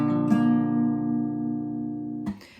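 A guitar plays a plucking pattern at full speed: a chord rings out warm and sustained after a light pluck, then a percussive string slap cuts in near the end, with no talking.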